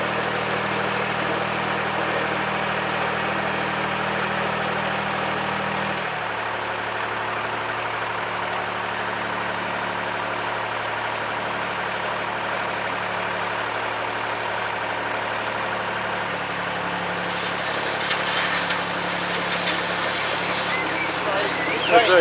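A narrowboat diesel engine ticks over at idle on the Welford Arm of the Grand Union Canal, a steady low throb close by, its pitch shifting partway through, with someone talking intermittently over it.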